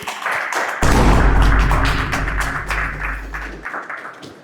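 A studio audience applauds a contestant at a French dating-game show, a dense burst of claps with heavy low thumping that starts abruptly, holds steady for nearly three seconds, then thins out.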